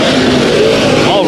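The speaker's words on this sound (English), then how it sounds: "So we got 10 late models here battling tonight in the inaugural debut of late model racing at the dirt track at KCRP" Late model race cars roar together on a dirt oval track during a heat race, a dense continuous engine drone with rising revs, heard under steady commentary.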